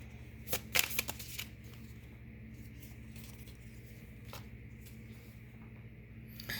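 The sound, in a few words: shuffling Rumi cards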